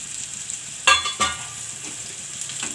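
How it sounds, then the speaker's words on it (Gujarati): Green peas go into hot oil for a Gujarati pea and carrot vegetable curry, giving a soft, steady sizzle with two brief louder bursts of spattering as they land in the pan. No one speaks. "હવે આપણે એમાં વટાણા નાખી દેવું"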